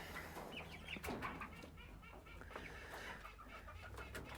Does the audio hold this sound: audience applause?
no